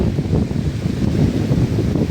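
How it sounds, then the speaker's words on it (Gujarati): Strong wind blows through trees outdoors, a loud, continuous low roar buffeting the microphone for about two seconds with no pauses. "આ જોઈ શકો કેટલો પવન છે. ઝાડો બાવડો હલાઈ નાખેલો."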